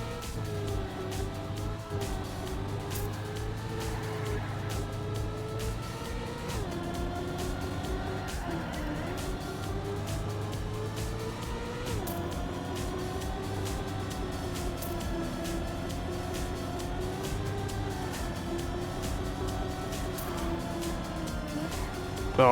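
Race car engine droning through endurance-race laps, a continuous tonal hum whose pitch dips and rises with gear changes and corners, steady and close with no talk.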